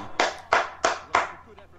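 Four sharp, evenly spaced hand claps ring out close by in under two seconds, a faint fifth trailing after, with a voice murmuring quietly underneath.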